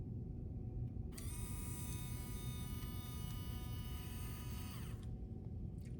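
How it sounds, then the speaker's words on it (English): Small electric actuators drive upward to close an aperture, giving a faint whirring buzz with a steady whine that starts suddenly, holds for nearly four seconds and then cuts off, over a constant low background hum. "This press of the button will close the aperture by moving the actuators upwards."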